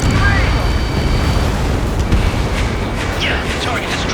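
A loud, sustained rumbling explosion as a target is destroyed during a pipeline-destruction mission in the jet combat game Ace Combat 7: Skies Unknown, with roaring noise filling the whole moment.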